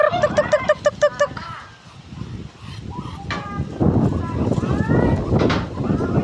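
Loud farmyard calls from turkeys and ducks, a rapid series of honking turkey gobbles at first, then a mix of squawks and duck quacks with some voices in the background.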